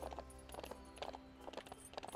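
Horse hooves clip-clop in The Ranch of Rivershine video game, a soft, steady rhythmic trot of repeated hoof clusters, quiet and close with no talk over it.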